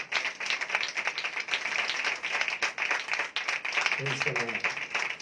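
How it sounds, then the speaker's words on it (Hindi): A church congregation claps loudly for Jesus in a continuous, dense round of applause, with a voice speaking briefly near the end. "जोरदार तालियां अपने यीशु के लिए"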